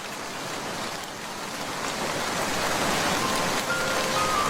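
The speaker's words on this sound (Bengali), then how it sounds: "এখন তো ঝড় বৃষ্টি হচ্ছে" Steady rain and storm wind pour down with a broad hiss that swells slightly louder toward the end, no voices present.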